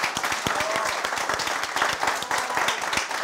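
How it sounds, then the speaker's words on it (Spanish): Steady applause from a crowd at a diploma ceremony, dense overlapping claps filling the whole stretch at an even, fairly loud level. "Un aplauso para él."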